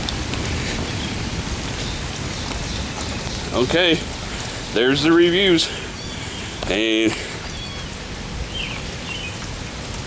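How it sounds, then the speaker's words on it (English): Heavy rain pours steadily onto a flooded driveway, a dense, constant hiss heard up close throughout. A voice speaks in short bursts over the downpour. "the rain's pouring down there, and it's flooded in the back"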